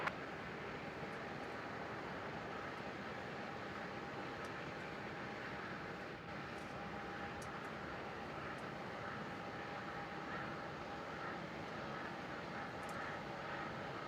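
A distant airliner landing at Melbourne Airport gives a low, steady roar that stays faint and constant, with no talking.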